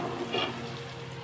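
Onions frying in a pan for a chicken fry curry, a soft continuous close sizzle with a brief clatter at the end, no voices.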